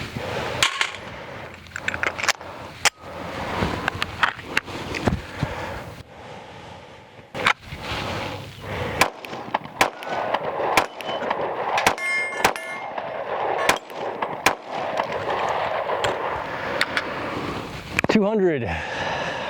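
A Springfield Armory Hellcat Pro Comp OSP pistol is fired at a range in a string of sharp, loud reports, with metallic clangs and people talking throughout.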